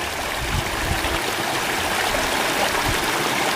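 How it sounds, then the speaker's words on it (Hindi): Glacier meltwater stream on a snowy mountain trek near Beas Kund rushes in a steady, dense, close roar of flowing and gurgling water, with no talking. "ग्लेशियर का पानी"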